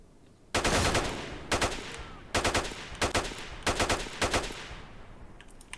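AK rifle fire in the shooter S.T.A.L.K.E.R. (OGSE Shadow of Chernobyl mod): loud, close bursts of rapid automatic shots in five or six clusters separated by short pauses, with no one speaking.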